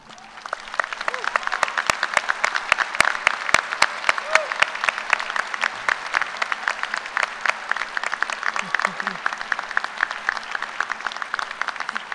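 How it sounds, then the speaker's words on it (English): A commencement audience claps steadily for honor students, a thick continuous patter of many hands with a few sharp near claps standing out, carrying on throughout without talk. "Please join me in giving them a round of applause."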